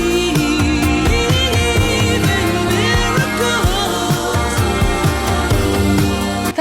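A recorded band plays the second chord of the chorus of a song, with steady drums, bass and sustained keyboard harmony filling the passage at full level.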